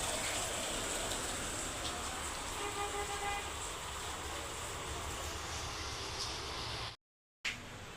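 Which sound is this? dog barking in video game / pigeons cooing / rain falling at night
rain falling at night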